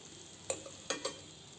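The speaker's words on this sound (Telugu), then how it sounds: "కొద్దిగా ఆయిల్ ఉంటుంది కదా, అదంతా వచ్చి ఉడుకుతున్నది" Beetroot cooks in a little oil over a low flame, giving a faint steady sizzle broken by three soft clicks of a stirring spoon against the pan.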